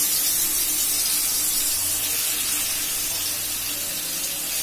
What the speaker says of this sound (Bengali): চিকেনটাকে ভেজে নেব।